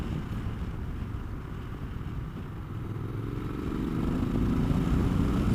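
A Scrambler 1200 motorcycle pulling out of a turn in fourth gear, its engine rumble rising steadily as it accelerates, mixed with strong wind noise buffeting the microphone.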